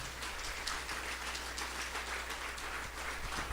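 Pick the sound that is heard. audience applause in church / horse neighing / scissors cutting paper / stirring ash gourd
audience applause in church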